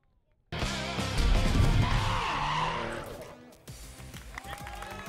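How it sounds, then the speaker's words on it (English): A drift car at the Lédenon round of the French Drift Championship spins out, with a loud sustained tire squeal and engine roar that fades, then a quieter engine afterward. "it's a spin out from him"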